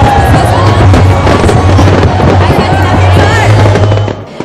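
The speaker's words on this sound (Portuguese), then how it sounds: "Vinte e dois minutos de fogos e um show à parte." New Year fireworks over a crowd of revellers at Beira-Mar Norte in Florianópolis, a loud, dense barrage of crackling bursts and booms with constant crowd noise underneath.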